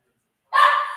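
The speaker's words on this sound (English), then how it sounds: "Now he's in the kitchen barking at the treat bowl." A single short, high yip-like bark comes after half a second of silence, fairly close.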